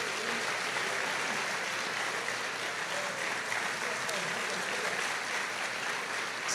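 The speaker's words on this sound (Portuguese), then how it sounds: "aplaudindo ao Senhor." A church congregation applauds in praise for their pastor, a dense, steady wash of clapping that fills the room evenly throughout, with no voices rising above it.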